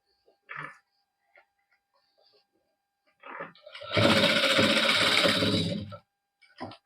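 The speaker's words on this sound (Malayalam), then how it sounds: "ഇതിന്റെ നാല് വശത്തു കൂടെ ഒരു സ്റ്റിച്ചിട്ട് കൊടുക്കുകയാണ് ചെയ്യുന്നത്" A sewing machine stitches fabric for a child's sharara outfit, running along the edges with a couple of short bursts followed by one loud, steady two-second run close by, then stopping.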